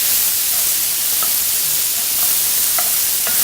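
Carrots, celery and pearl onions saute in a hot pan with a steady, close sizzling hiss and a few faint scrapes as they are stirred.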